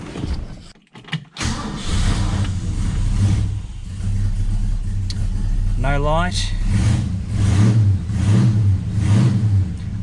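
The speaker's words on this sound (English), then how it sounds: "let's crank it and see what happens" A Ford XW GT Falcon engine cranks briefly after a voltage regulator replacement, catches and settles into a steady idle with a couple of revs, while someone talks over it.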